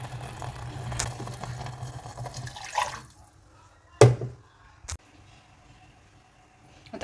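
Water is poured into cooking katachi amti masala in a pot, a short splashing gush followed by a few sharp clinks and drips, faint kitchen background.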